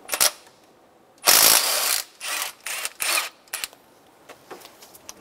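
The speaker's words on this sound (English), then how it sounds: "Using a 14 millimeter socket, remove the timing belt idler pulley." A ratchet with a 14 mm socket loosens the timing belt idler pulley on a 2000-2006 Toyota Tundra 4.7L V8, giving a series of quick clicking bursts, one longer run followed by shorter ones, close up with no speech.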